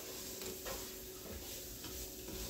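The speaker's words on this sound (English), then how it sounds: "you're gonna stir this up and let it cook for about 5 minutes with this flour." Flour cooks in a pot for clam chowder as a soft sizzle runs under faint, rhythmic stirring scrapes, quiet and close, with no speech.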